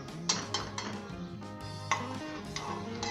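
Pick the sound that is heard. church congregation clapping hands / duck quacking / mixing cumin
mixing cumin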